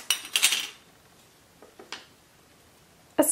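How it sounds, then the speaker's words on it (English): Metal mason jar lids clink against one another in a few separate bursts, a bright cluster of clatter at the start, two lighter taps midway, and another sharp clink at the end, close and fairly loud with no talking. "Some mason jar lids."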